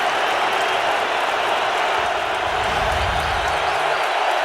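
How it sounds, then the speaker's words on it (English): A stadium crowd at an NFL game between the Chicago Bears and Atlanta Falcons roars and cheers in a dense, sustained wash of noise, with a commentator's voice over it. "the crowd already rising as one on Chicago's first series, exhorting their defense to stop him"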